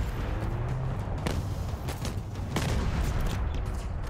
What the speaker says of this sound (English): Not the best at long range, this assault rifle.